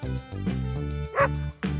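A dog barks four or five times in short, yappy, cartoon-like bursts with brief gaps between them, close and clear with no talk.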